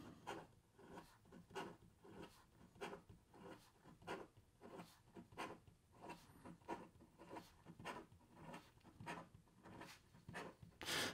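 A Big Idea Design Fountain EDC fountain pen scratches quickly across paper in steady, rhythmic strokes, close and distinct with no talking.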